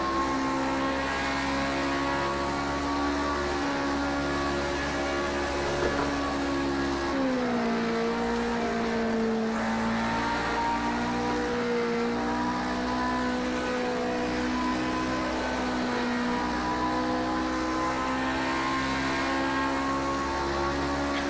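Historic race car engine lapping Spa in a racing video game, a steady droning tone that shifts down in pitch partway through and then holds, continuous and close with no talk.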